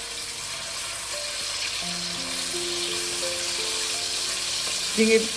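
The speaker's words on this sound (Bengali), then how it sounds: "চিকেনটা আমি বেশিক্ষণ ভাজবো না, মিনিট 2 আমি একটু ভালো করে নেড়ে নেব।" Chicken fries in hot oil in a wok for mixed Schezwan fried rice, a steady close sizzle running throughout with a few faint tonal squeaks and a brief clatter near the end.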